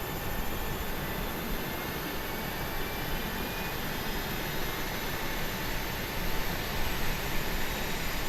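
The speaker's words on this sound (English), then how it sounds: "Let's see what these engine sounds are like, because that APU definitely sounded different." Boeing 737 engines and APU in the PMDG flight simulator give a steady, broad hissing roar with a faint high whine, constant throughout and slightly swelling near the end, with no talking.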